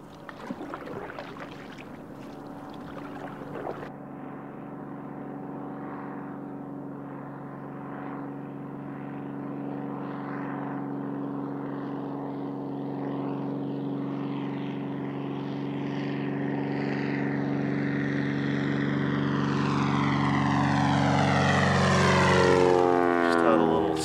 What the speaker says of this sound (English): Cessna float plane buzzed me there